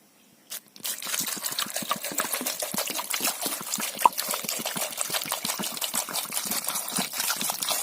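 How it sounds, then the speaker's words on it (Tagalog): Water pours steadily into a cooking pot of mixed vegetables and okra, a continuous splashing trickle that starts after a brief clatter and keeps going, close and moderately loud. "so lagyan natin ng tubig"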